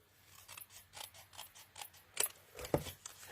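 Scissors trim a small papercraft piece at a crafting table, a series of quiet, close snips in uneven rhythm, each cut a short crisp crunch, with no talking.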